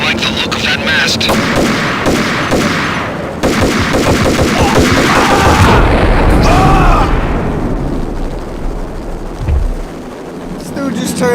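A thrown bomb explodes in the Max Payne video game amid a dense burst of gunfire and booming blasts, loud and close, followed by a rumbling tail and quieter shots, with speech mixed in.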